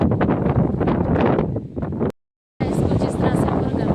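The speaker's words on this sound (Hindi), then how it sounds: "पूरा मौसम इतनी ज़्यादा हवा चल रही है" Strong winter wind buffets the microphone near wheat fields, a loud continuous rushing roar with gusty swells, briefly cutting out before resuming, with a voice partly heard beneath it.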